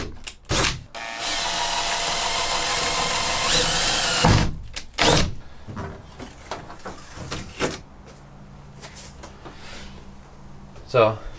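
A power drill whirs loudly for a few seconds, boring 1/8 inch holes for a van window install, then stops; scattered clunks and handling noises follow with a person speaking nearby.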